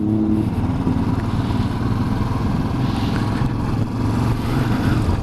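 A 2019 Royal Enfield Classic Bullet 500 Trials/Scrambler rumbles along while being ridden, its single-cylinder engine giving a loud, steady low thump close by, with rushing wind above it and no voices.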